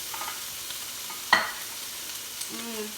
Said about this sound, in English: This is where we can toss in our veggies.